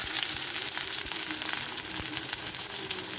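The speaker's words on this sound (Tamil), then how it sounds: "இப்போ கடுகு பொரிஞ்ச உடனே வெங்காயத்தை போட்டுக்கிடுவோம்" Onions dropped into hot oil with freshly popped mustard seeds, cooking for egg masala, give a steady, dense sizzle and crackle close by, with a few sharper pops and no one speaking.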